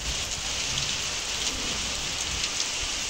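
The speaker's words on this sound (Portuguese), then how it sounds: "Uma chuvinha boa." Light rain falls steadily across a rural backland setting in northeastern Brazil, a dense even hiss of drops on surfaces with no breaks, moderately close and heard alone without any voices.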